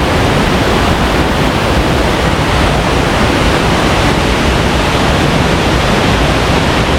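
Loud, steady rush of flowing water near Dhutpapeshwar Temple in Rajapur, a dense broadband roar that stays constant and close throughout, with no voices over it.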